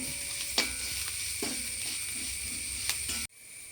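Sliced onions fry in a pan with salt, giving a continuous, even sizzle broken by a few sharp knocks of a stirring spoon. The hiss stops abruptly near the end.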